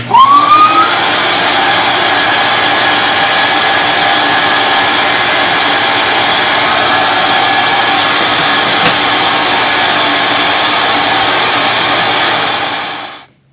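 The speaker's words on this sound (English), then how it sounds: "let's turn on the vacuum" A loud, steady motor whine of a shop vacuum running continuously, a high roaring drone that cuts off abruptly at the end.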